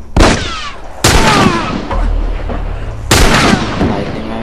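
Loud 9mm pistol shots in The Last of Us, three heavy reports spaced about a second apart, each with a long rumbling tail over steady game noise.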